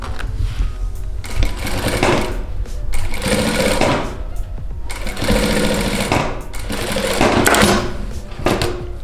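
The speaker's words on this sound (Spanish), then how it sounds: "Vamos a coserlo únicamente por la orillita." A sewing machine stitching along the edge of a trouser zipper, loud and close, running in several bursts of rapid mechanical chatter separated by short pauses.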